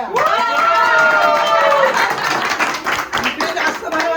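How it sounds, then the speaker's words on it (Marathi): Family members clap together at a home celebration of a 60th birthday, a lively patter of hands mixed with voices and chatter, close and loud. "टाळ्या टाळ्या"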